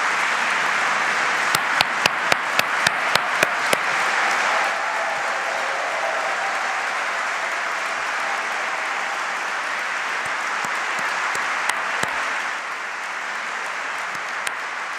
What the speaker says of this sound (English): Let's give an early round of applause to all of our nominees.